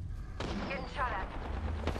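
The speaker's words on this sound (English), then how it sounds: "Getting shot at." Gunfire in the battle game Apex Legends: a sustained burst of rapid weapon fire with whizzing, crackling shots, heard under voice chatter and game callouts.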